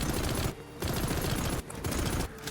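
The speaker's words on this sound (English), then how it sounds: "Nice and chunky weapon shots" Bursts of rapid gunfire from Qrow's weapon in the video game Paladins, three chunky volleys separated by short pauses, loud and up front.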